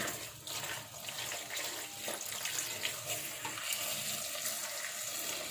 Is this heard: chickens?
no